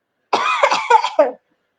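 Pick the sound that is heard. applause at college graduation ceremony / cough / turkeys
cough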